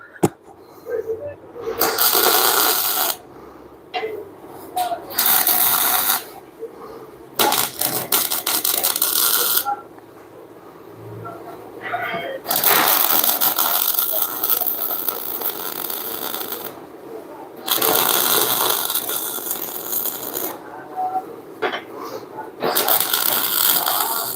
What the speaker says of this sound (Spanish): lo ubicamos en el centro y vamos a soldarlo de una vez.